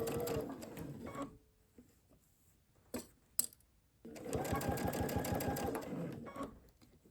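A sewing machine runs in two bursts, stitching fabric for a holiday tree skirt: a short run, a pause with a couple of light clicks, then a longer steady whirring stretch, close and clear with no talk.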